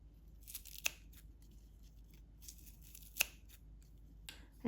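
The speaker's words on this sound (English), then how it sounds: "I like using this special pair of scissors, so I'll just cut that right into" A few sharp snips from scissors cutting herbs, spaced apart and crisp, close by against a quiet background.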